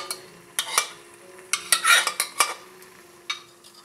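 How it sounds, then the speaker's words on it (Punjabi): Mashed turnips stirred into a prepared tadka in a pan for shalgam saag, a series of sharp spoon scrapes and clinks against the metal with soft sizzling between strokes. "ਘੋਟੇ ਹੋਏ ਸ਼ਲਗਮਾਂ ਨੂੰ ਨਾ ਹੁਣ ਆਪਾਂ ਤਿਆਰ ਕੀਤੇ ਹੋਏ ਤੜਕੇ ਦੇ ਵਿੱਚ ਪਾ ਦੇਵਾਂਗੇ।"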